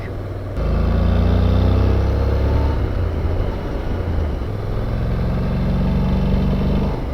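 Honda NC750X motorcycle engine while riding through twisty roads: a steady, loud, close drone that dips in pitch, then climbs again as the bike accelerates, with wind rush throughout and no talking.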